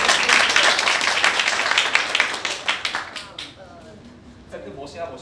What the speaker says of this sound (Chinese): 大家掌声欢迎她一下